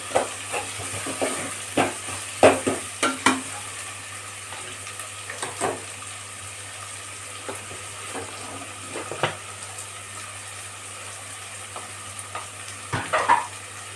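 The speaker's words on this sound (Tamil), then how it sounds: "பல்லாரி வந்து நல்லா நமக்கு வதங்கிக்கிடணும்" Onions sautéing in a pan for a Tamil-style chicken gravy, with a steady soft sizzle broken by irregular scraping stirs and clinks from a spoon, close and moderately loud, no talking.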